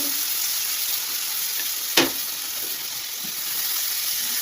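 Continuous sizzling of spices in a hot pan, with one sharp splash-like burst as water is added partway through before the steady frying hiss carries on.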